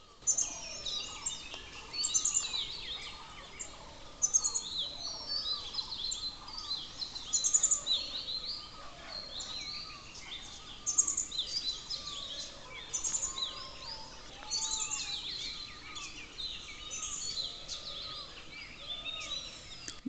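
Dawn chorus with a spotted dove calling among many birds, including black bulbul, bronze drongo and blue whistling thrush, whose chirps and whistles overlap continuously at moderate volume with no pauses.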